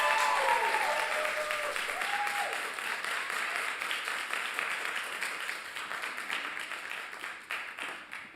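Warm applause from a gala audience after an opening musical number, strongest at the start and gradually thinning out, a broad wash of clapping with no speech over it.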